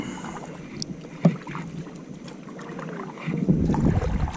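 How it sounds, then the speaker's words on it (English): A canoe paddle strokes the water against a river current, quiet splashes and a louder dip near the end over soft wind and flowing water. "I'm paddling."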